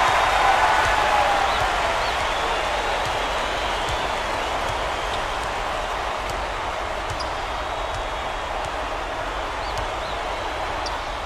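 A steady roar of a large arena crowd in College Hoops NCAA 2K8, a college basketball tournament game, a loud continuous wash of cheering that eases slightly over the stretch.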